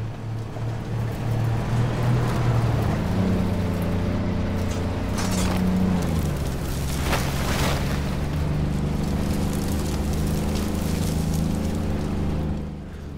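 A T-72 tank engine in a tank video game gives a loud, steady, close low drone with a constant rumbling hum and no pauses or voices throughout.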